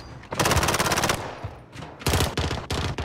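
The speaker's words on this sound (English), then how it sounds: "Taking fire." Automatic weapon fire in Call of Duty Modern Warfare, two loud sustained bursts of rapid shots separated by a brief lull, close and dominant with no talking.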